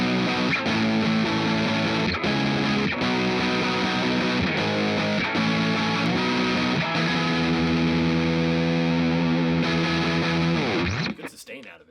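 Heavily distorted electric guitar through a distortion pedal with every control maxed plays thick sustained chords and riffs at high gain, loud and saturated, ending in a sudden cutoff.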